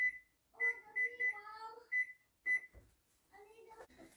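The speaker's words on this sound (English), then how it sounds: "going to set a timer." Kitchen timer being set for oven-baked biscuits, a series of short electronic beeps in quick succession, close and clear, with brief pauses between presses.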